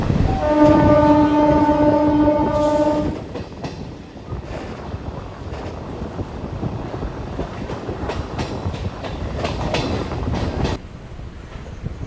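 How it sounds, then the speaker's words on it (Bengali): A Howrah to Dum Dum local train pulls into Bagbazar station, opening with a loud sustained horn blast, followed by rumbling wheels and rhythmic rail clatter as the carriage rolls along. "আমাদের ট্রেনটা এখন এসে পৌঁছালো হচ্ছে বাগবাজার স্টেশনে"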